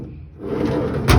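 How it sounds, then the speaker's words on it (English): A wooden drawer slides open and shut with a rumbling scrape that builds over about a second, ending in a short, loud knock as it closes, close by. "each drawer is working really sweetly"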